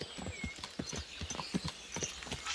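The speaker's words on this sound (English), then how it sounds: "Sounds like a bloody expensive horse." Horse hooves clip-clop at a walking pace in Kingdom Come Deliverance 2, steady and fairly close, with faint ambient game noise behind them.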